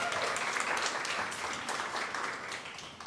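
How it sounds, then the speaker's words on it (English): Audience applause fills a room at a community networking event: dense, steady clapping from many hands, loud and close, sustained for a few seconds without pause. "A round of applause for BÍAN for having us here."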